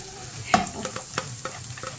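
Garlic frying in oil for homemade chili oil, a close sizzle with irregular stirring clinks and scrapes across two seconds.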